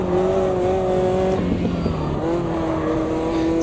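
Caterham 620R racing at Cadwell Park in Automobilista 2, its engine a loud, continuous, buzzing drone that shifts pitch around a gear change and keeps howling steadily throughout.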